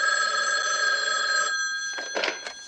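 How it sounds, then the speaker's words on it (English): A telephone rings in a 1979 horror film set in a quiet house at night, giving a loud, close, sustained electric bell ring that cuts off partway through and is followed by a few softer clattering sounds. "The phone begins to ring from the famous killer"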